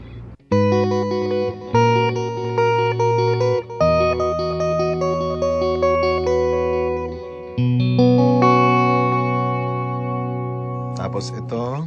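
Electric guitar on a clean tone through a BOSS IR-2 amp simulator, strummed chords and picked notes ringing out with a bit of ambience, close and steady, with brief noise at the very end.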